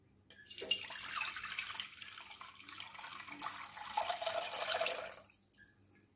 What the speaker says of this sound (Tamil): இன்னொரு பவுல் எடுத்து இதை நல்லா ஃபில்டர் பண்ணிக்க போறேன்.